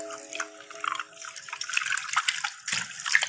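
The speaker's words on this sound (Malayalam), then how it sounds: "കുറച്ച് വെള്ളം എടുക്കട്ടോ." Water being poured while cleaning a love bird cage, close splashing and trickling in uneven bursts, with a few faint bird chirps and clinks in between.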